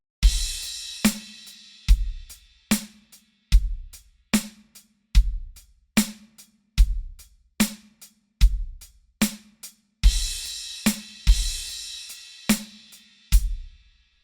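Drum kit playing a steady rock groove with regular kick and snare strokes and hi-hat wash, punctuated by crash cymbal and bass drum accents near the end of the phrase, loud and close with no voices.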